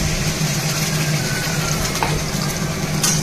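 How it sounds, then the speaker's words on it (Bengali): Onions frying in a pan with cumin and bay leaf give a steady, moderately loud sizzle that runs without a break, with a faint clink near the end and no voices. "জিরা তেজপাতা সম্বার দিয়ে দিয়েছি, পেঁয়াজটা ভেজে নিচ্ছি।"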